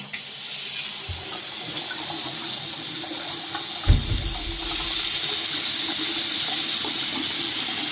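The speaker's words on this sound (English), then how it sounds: "We're going to turn the water back on, and we're going to see how this goes." A repaired Delta faucet with a replaced cartridge runs steadily into a sink, a continuous hiss of flowing water that swells a bit louder midway after a brief knock, no voices.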